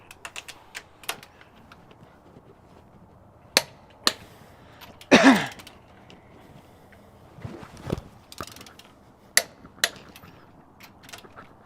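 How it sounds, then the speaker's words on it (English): Sharp mechanical clicks and ticks from a torque wrench set at 90 while tightening large diesel injectors, scattered irregularly with a louder rasping burst midway, close and fairly quiet, no talking. "Torque wrench, sir."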